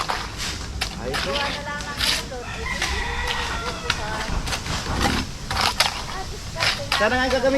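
A rooster crows among a busy mix of sounds, with people talking over it throughout.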